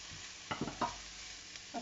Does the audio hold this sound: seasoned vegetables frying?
yes